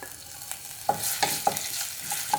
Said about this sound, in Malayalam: നമുക്കിനി ഇതിലേക്ക് വെളുത്തുള്ളി കട്ട് ചെയ്തിട്ട് കൊടുക്കാം. പിന്നെ ഇഞ്ചി മുറിച്ചതിട്ട് കൊടുക്കാം.